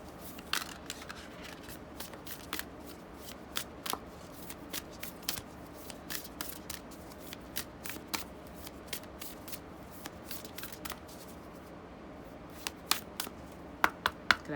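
A Moonology oracle card deck is shuffled by hand, with quick repeated riffling snaps and soft card slaps in an irregular rhythm, close and fairly quiet.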